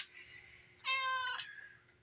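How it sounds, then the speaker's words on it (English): A single clear cat meow, close and fairly loud, rises out of a quiet background and lasts under a second. "Meow."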